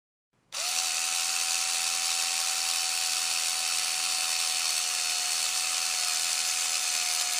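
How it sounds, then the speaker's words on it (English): Impact wrench securing lug nuts in a VR tire change game, a steady high electric whine that starts abruptly and holds at an even pitch, loud and alone. "Grab your impact wrench and collide it with the highlighted lug nut while using it to secure it into place."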